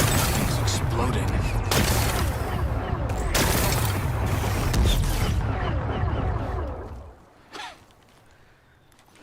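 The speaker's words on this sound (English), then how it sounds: "Gotta blast away some rocks, so I can expose the power cell. It's working! It's exploding." Rocks blast apart in Horizon Forbidden West in a loud, sustained barrage of crackling explosions and rumbling debris lasting several seconds before abruptly dying down. Gasping vocal sounds mix in, followed by a faint later thud.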